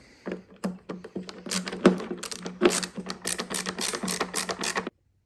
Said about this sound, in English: Now, of course, put these screws back in.